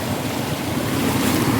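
Strong rushing water churning and splashing around a boat, a dense loud continuous wash with wind buffeting the microphone.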